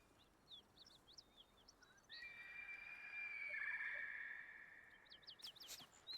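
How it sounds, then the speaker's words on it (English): Bird call in the video game Baldur's Gate 3: short, faint chirps repeat in quick bursts near the start and again at the end, with a steady tone swelling in between and no talking. "I'll follow the sound of the bird call."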